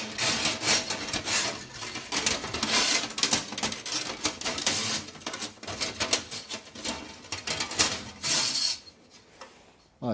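Protective armor coil fed onto stainless steel brake line for a Mopar A-Body disc brake conversion, giving steady close metallic rattling and scraping with clicks and bursts of friction, then a quiet tail.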